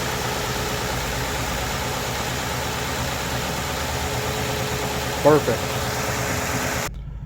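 A 2008 Ford Crown Victoria Police Interceptor idles steadily, its engine holding a constant, even drone close by for several seconds, with a single short spoken word partway through before it cuts off.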